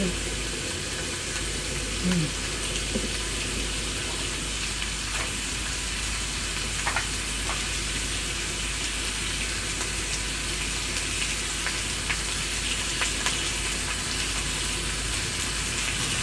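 Steak frying in a very hot pan over high heat, a steady close broadband sizzle running unbroken throughout with faint occasional pops and crackles, no talking over it.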